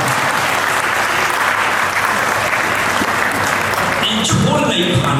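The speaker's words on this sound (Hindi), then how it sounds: "अब देश के लिए ताली बजाना" Steady, dense applause fills a comedy club room from a stand-up audience, continuous and loud throughout, with a few shouts near the end.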